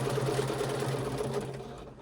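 Sewing machine stitching a fabric stuffed bear, a close, steady mechanical whirring run that slows near the end, with no talk.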